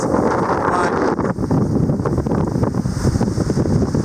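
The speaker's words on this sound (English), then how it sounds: "And the boat is beating hard." A sailboat beating hard into wind and waves on a passage from Grenada to Trinidad, with loud, constant wind buffeting the microphone over rushing water and hull noise.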